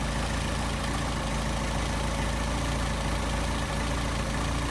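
Engine with a Solex carburetor idling at 700 rpm, a close, loud, steady mechanical drone with even pulsing and no talk.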